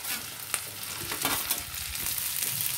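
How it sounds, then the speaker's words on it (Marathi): Onion and green capsicum sauté in a hot pan for prawn chilli, giving a steady bright sizzle with occasional stirring scrapes and clinks, close and moderately loud, with no speech. "हे आता असं सगळं मिक्स करायचं आणि थोडा वेळ हे सॉते करायचं"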